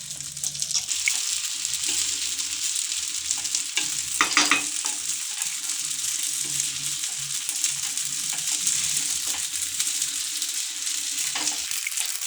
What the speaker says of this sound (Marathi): छान असं खमंग वास येईपर्यंत पटापट पटापट याला भाजायचं आहे.